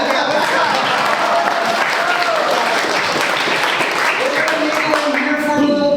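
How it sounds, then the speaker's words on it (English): Audience applause at a forest camp graduation ceremony, a loud, steady wash of clapping over about six seconds with voices and a few tonal sounds mixed in underneath. "You want to clap? Okay, let's clap."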